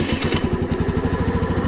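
A Honda Navi motorcycle engine starting on full choke and settling into a steady, close, fast-pulsing idle with a rough buzzing beat.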